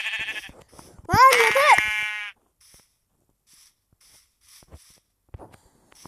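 A single loud sheep bleat, wavering and nasal, rings out close by for about a second, followed by faint scattered rustles and taps in quiet surroundings; brief noise precedes it.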